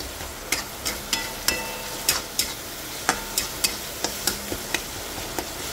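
A spoon stirs turmeric into beans and carrots frying in a pan for curry, giving a soft sizzle under a run of sharp, regular scraping clicks, close and alone.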